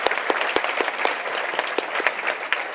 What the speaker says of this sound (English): We'd like to give another final round of applause for all the award recipients.